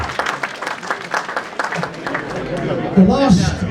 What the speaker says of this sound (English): So thank you, round of applause for every one of you.